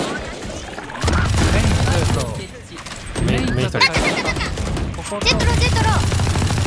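Rapid bursts of gunfire from the tactical shooter game VALORANT crackle through most of the stretch, mixed in with excited voices talking over the shots.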